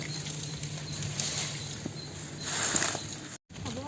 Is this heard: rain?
yes